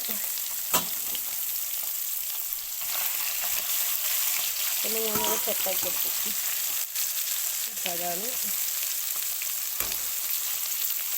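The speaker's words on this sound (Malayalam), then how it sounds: "അപ്പം അതൊന്ന് വറുത്ത് വെക്കണം" Masala fish fries steadily in a pan with a loud, constant sizzle, while a voice speaks briefly now and then over the crackling.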